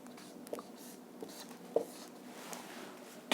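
A teacher writing maths on a board, a few faint, sparse scratching strokes spaced out over a few seconds in a quiet room.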